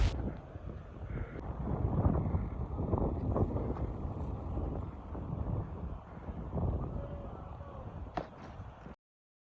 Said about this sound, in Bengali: উপরে এতটা ঠান্ডা এবং হাওয়া বইছে খুব প্রচণ্ড জোরে